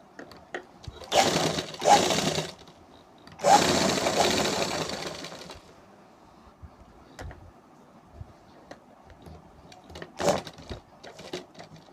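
A sewing machine stitches the inner facing strip of a neckline in two short bursts, fairly close, followed by a quieter stretch of small handling noises and one brief final whir.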